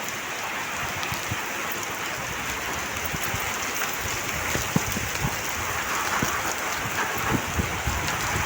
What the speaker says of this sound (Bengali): বৃষ্টি অনেক বেড়ে গেছে